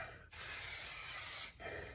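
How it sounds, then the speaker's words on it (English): Kenra volume hair spray is sprayed onto curled hair in one steady hiss of a little over a second, close and fairly loud, with quiet room sound before and after. "I like this Kenra volume spray for my hair because it helps hold the volume a little bit in the curl"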